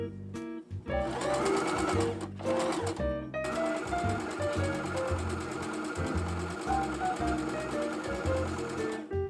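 Sewing machine stitching a shirt, a steady fast mechanical chatter that runs almost nonstop at close range, with one brief pause near the start.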